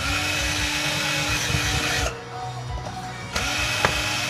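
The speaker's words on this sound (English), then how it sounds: "Can't find it, grind it." A power tool grinds into the plastic base of a multimeter being scrapped. It whines steadily, cuts out briefly and then resumes.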